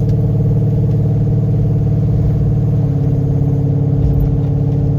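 A Coyote-swapped Ford Fairmont with a 6R80 transmission runs steadily in sport mode, producing a loud, continuous, even engine drone close by with no speech.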